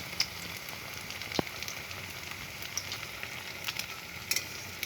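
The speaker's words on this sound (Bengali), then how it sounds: "এক পাশটা হয়ে গেছে ভাজা, অল্প বাকি আছে, ঘুরিয়ে দেব।" Food fries in a pan with a steady close sizzle and light crackling, scattered small pops and a brief utensil tap breaking the even hiss; no one talks.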